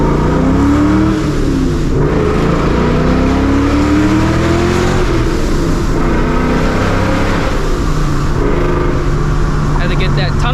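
Supercharged 2004 Mustang GT blasting through a tunnel, its engine roaring loud and close with rising revs and a strong echo, and supercharger whine over the rumble throughout.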